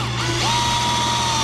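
A power drill spins up and bites into the hull of a Perception Outlaw 11.5 kayak to start a hatch hole, a steady close whine with a rising pitch sweep as the bit engages.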